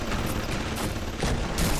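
Rapid gunfire in the video game Bioshock 2, a dense, loud rattle of overlapping shots with a heavier burst near the end, with no voices.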